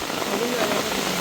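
Heavy rain pours steadily outdoors on a farm near a forest, a dense continuous hiss with a voice speaking briefly over it.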